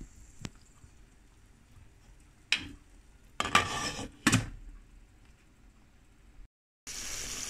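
A lid is set onto a pot of simmering chicken-foot adobo made with Sprite, giving a few sharp metallic clanks and clatters in quick succession against a quiet kitchen background.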